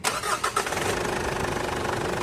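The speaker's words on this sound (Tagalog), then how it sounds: "Ang susunod ko naman gagawin dyan, i-switch off ko ulit itong makina. Tapos i-start ko siya kung okay na ba talaga." A Ford Everest engine is started again after a fuel filter replacement, cranking briefly and then catching into a loud, steady idle close by, with no talking.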